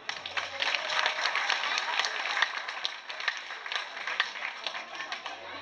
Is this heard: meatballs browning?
no